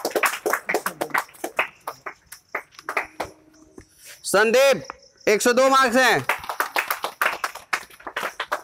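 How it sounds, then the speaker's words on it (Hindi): Students in a classroom clap in quick, scattered bursts as test results are read out, a talking voice announcing names and marks around the clapping. "तालियां बजाइए थोड़ा बढ़िया से"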